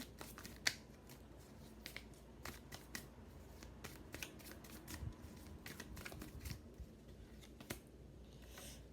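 A tarot deck is shuffled and a card drawn, producing quick repeated riffling snaps and papery flicks close by, fairly quiet and with no talk over it.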